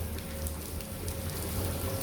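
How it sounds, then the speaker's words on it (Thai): Steady rain pouring down and pattering on surfaces, a dense continuous hiss close by with no gaps and no voices. "บรรยากาศในวันฝนตกพี่น้อง เย็นสดชื่น"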